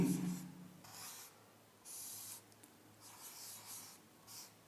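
Chalk or marker writing on a board, heard as several separate bursts of scratchy rubbing strokes with short pauses between them, faint and alone.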